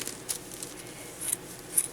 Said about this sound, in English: This is not a great pair of scissors